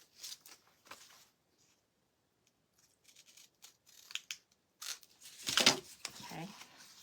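Scissors snip through craft material in a few short, crisp cuts near the end, with quieter rustling and handling earlier.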